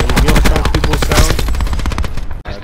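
The MicroMG machine gun in Black Ops 4 fires a loud, rapid, chunky automatic burst lasting over two seconds, with close rhythmic shots that break off abruptly near the end.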